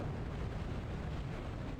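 An explosion from an enemy's shot in the Hexen video game roars as a dense, sustained blast of rumbling noise that fills the short moment without a break.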